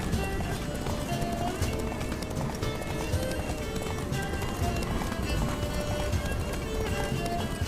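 A horse gallops at a steady, rolling clip-clop rhythm in The Witcher 3: Wild Hunt, Blood and Wine, close and continuous beneath a dense bed of game music and effects.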